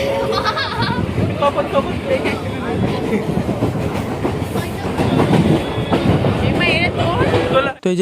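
A train runs on rails with a loud, continuous rumble and rhythmic clickety-clack of the wheels, under a steady hubbub of nearby passenger chatter that drops out sharply near the end.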